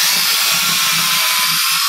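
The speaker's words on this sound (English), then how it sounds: "I start about 2 inches from the end of this, and I'm going to drill a hole" Power drill boring a hole into willow wood near the end of a branch while building a willow chair, a loud, steady whirring grind with slight pulsing in the bite, close and alone.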